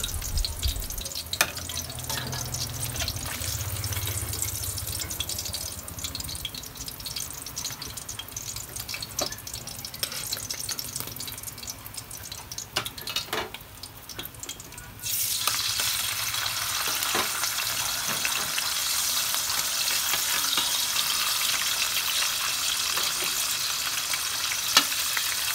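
Food frying in a pan of hot oil, a steady close sizzle that grows louder and hissier about halfway through, with a few soft clinks of utensils and no talking.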